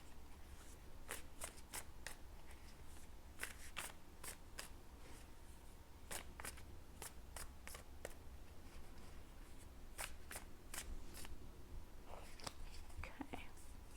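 Tarot cards are shuffled and drawn in quick bursts of crisp riffling snaps and papery slides, repeating in clusters over a soft background hiss, close and quiet, without clear talk.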